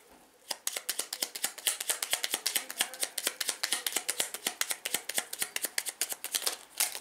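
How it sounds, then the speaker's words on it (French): Oracle cards being drawn by hand from a deck, then a pack falling, heard as a rapid run of crisp, close card flicks and slaps for several seconds, with no talk. "je dis 4 cartes et puis j'en ai un paquet qui tombe"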